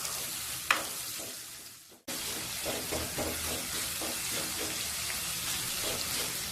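Onions sizzle and crackle steadily in oil in a pan, with rhythmic stirring scrapes; a short pause near the start, then continuous close frying with no talking.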